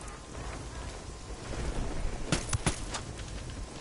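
Rain falls steadily in a stealth video game, a soft wash of drops that swells midway, with several sharp cracks of thunder bursting close together near the end.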